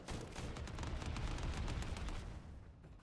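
Dense, rapid gunfire and booming impacts in a video game battle, a continuous rumbling barrage of overlapping shots that swells in the middle and tapers off toward the end.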